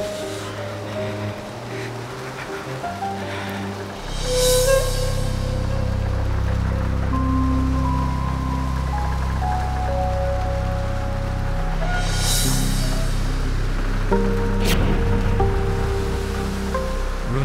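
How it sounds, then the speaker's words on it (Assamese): Heavy rain pours down in a steady, loud, unbroken wash, with music tones playing over it throughout. "ৰঞ্জুন ইমান বৰষুণত তুমি কিয় আহিলা"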